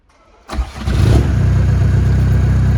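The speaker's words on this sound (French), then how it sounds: "vous voulez que je vous fasse un tuto comment démarrer une voiture?" A tuned diesel car engine cranks and fires up abruptly, then settles into a loud, steady close-up idle with a low rumbling throb.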